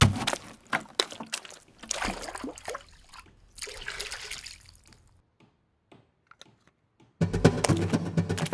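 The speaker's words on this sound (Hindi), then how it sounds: "हाँ शांति, जरा इसमें पानी डालना।" Water trickles and pours into a household container in an Indian home, a splashy, uneven stream running for several seconds with a pause before a louder burst near the end, with no talk over it.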